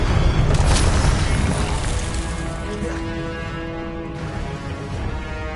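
A Confringo explosion spell in a Hogwarts wizarding video game: a loud, deep boom bursts at once, then rumbles and decays slowly into a long crackling tail.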